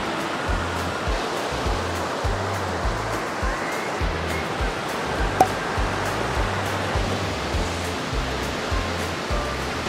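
Big sea waves break on a beach in Kudat, Sabah, at the northern tip of Borneo, as strong wind blows, a loud steady roar of surf and gusts with no voices.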